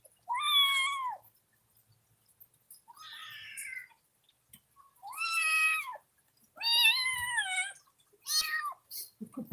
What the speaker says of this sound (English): You just meowed.